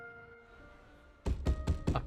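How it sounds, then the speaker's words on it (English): Four urgent, heavy knocks on a door in the video game Zenless Zone Zero, evenly spaced and close, following a quiet stretch with a faint background tone. "a series of urgent knocks on the door wake you up"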